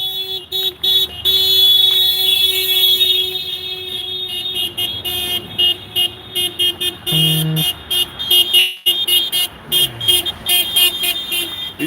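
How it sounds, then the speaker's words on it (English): Street traffic outside a criminal courts building, with car horns tooting and a car alarm blaring steadily and loud over a continuous road rumble, a few short honks breaking through near the end. "Hey, beep your horn, buddy."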